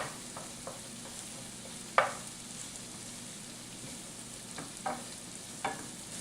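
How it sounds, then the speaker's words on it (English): Vegetables wilting and cooking down in butter in a pan alongside a bacon hamburger, a soft steady sizzle with a few sharp clicks of a spoon breaking them up, no talking. "They will wilt a little bit and cook down in the butter."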